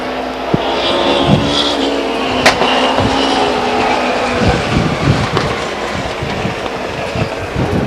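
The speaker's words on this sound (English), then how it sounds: "Into the fence, the number 8 car, Ron Simmons." Stock cars race around the Stockton 99 Speedway oval, a loud, continuous roar of engines with passing swells and rumble, no voices in the foreground.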